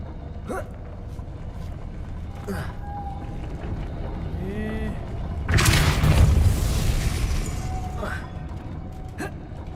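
In the video game Hogwarts Legacy, a Depulso spell is cast with a sudden loud whooshing blast that swells for a second or two before fading, amid quieter game sounds and a voice.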